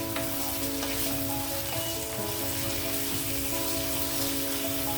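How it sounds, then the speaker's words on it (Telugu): Chicken pieces frying in a hot pan, a dense, even sizzle and crackle that runs loud and unbroken throughout, with no voices. "చికెన్ వేడెక్కుతూ ఉంటుంది"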